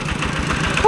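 A farm tractor engine runs in a rural village, its low rhythmic chugging thumping steadily close by while people talk over it.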